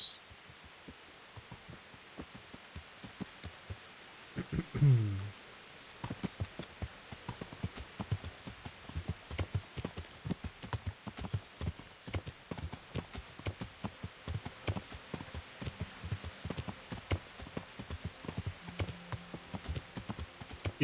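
A horse's hooves clip-clop at a steady walking rhythm in the medieval game Kingdom Come: Deliverance, with rapid close hoofbeats continuing over a low hum and a brief louder thud near the start.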